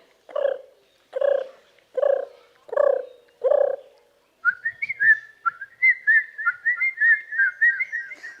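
A performer imitates birds calling at dusk in a forest: five evenly spaced, hooting calls, then a quick fluttering whistled warble, close and alone.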